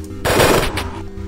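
Rapid automatic gunfire from a Borderlands browser game, a loud burst of shots lasting about half a second, then fading into quieter game background sound.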